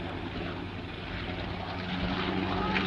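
Reproduction WWI-era monoplane fighter, the RAF's first monoplane fighter of 1918, flying at an evening air display: a steady droning propeller engine, moderately loud and continuous, with faint background noise and no speech.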